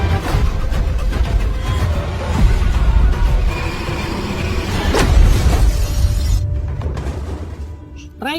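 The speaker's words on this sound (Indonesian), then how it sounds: "Ray akhirnya berhasil memecahkan kaca mobil dengan granat." Car window glass shattering from a grenade blast in a film scene, with a loud crash and scattering fragments amid a rumbling, turbulent background, ending abruptly.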